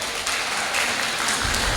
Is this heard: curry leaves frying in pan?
no